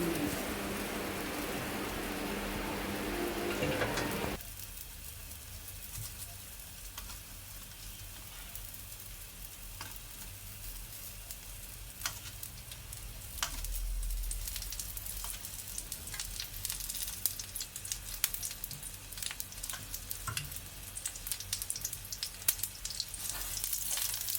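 Egg paratha sizzles and crackles steadily in hot oil, a dense close frying hiss throughout with a louder burst at the start and occasional pops, no voices.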